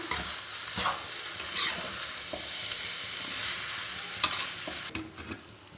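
Egg noodles stirred in a hot pan with tomato sauce and soy sauce, giving a steady close sizzle and frying hiss broken by several scraping stirs of the spatula, with no talking.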